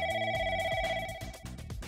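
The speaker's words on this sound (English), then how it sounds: "The phone is now ringing at the right extension." A Yealink T4X series desk phone rings steadily with a soft, continuous electronic tone at a transferred extension, heard faint and close with no voices over it.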